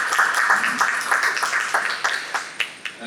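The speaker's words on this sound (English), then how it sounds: "Let's give them a big round of applause." A Toastmasters club meeting audience in Dubai applauds its outgoing team with a dense, close burst of clapping that stays loud and even, then thins slightly toward the end.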